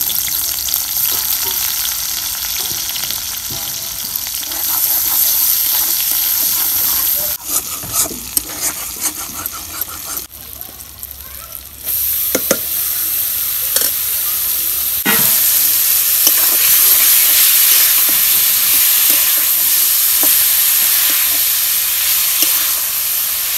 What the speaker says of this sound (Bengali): এই যে দেখেন আমাদের গাজর ভাজা হচ্ছে।